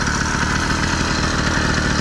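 A small engine on a homemade motorized bicycle idles steadily, a dense rapid putter with a rattly clatter, loud and close with no pauses or voices.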